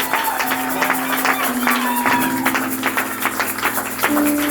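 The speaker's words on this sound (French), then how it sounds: "Est-ce que nous pouvons mieux faire célébrer Jésus par nos acclamations?" A church congregation cheering and clapping with rhythmic claps and shouts during a worship service, mixed with sustained musical tones underneath.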